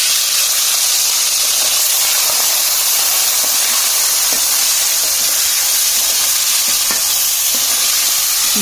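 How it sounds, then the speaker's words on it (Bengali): Hilsa fish fry in hot oil with spices, a loud, continuous, close sizzle with faint occasional stirring. "ভালো করে মাছগুলো মা ভেজে নিবে।"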